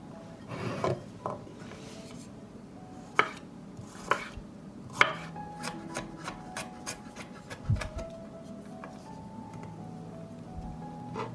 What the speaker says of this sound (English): While the soup is cooking, chop the garlic and parsley.